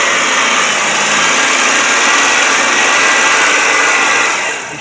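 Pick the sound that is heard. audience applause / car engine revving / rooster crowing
car engine revving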